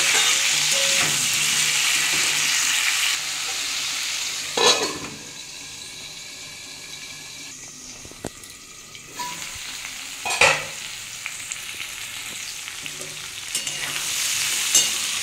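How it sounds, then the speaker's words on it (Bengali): Potato, cucumber, papaya and tomato fry together in a pan, a steady close sizzle with a few clattering stirs of a utensil, briefly quieter in the middle before the sizzle swells again. "আমি এর মধ্যে আলু, শসা, পেঁপে, টমেটো সব একসাথে বন্ধুরা দিয়ে দিলাম। একটু সামান্য নুন দিয়ে বন্ধুরা আমি চাপা দিয়ে একটু এটা ভেজে নেব।"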